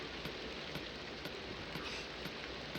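Steady rain in the Minecraft SevTech Ages modpack, a constant dense hiss of falling drops with faint regular ticks of droplets, even and unbroken with no talking.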